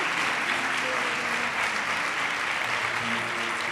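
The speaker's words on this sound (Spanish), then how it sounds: "Muchas gracias y un fuerte aplauso para ellos y para ellas." A school awards ceremony crowd gives loud, sustained applause, dense clapping from many people continuing evenly without pause.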